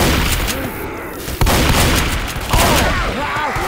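Loud gunfire in Left 4 Dead 2 (The Parish), several sharp close shots and bursts cracking out over a steady noisy game backdrop.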